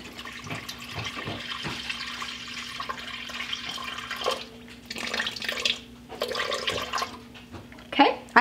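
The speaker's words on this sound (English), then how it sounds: "I'm going to use 375 grams of cool water. We just get this out of the Berkey and add it in." Cool water poured from a Berkey filter into a bowl for focaccia dough, a light trickling and splashing pour that comes in uneven bursts, with a few clinks and knocks near the end.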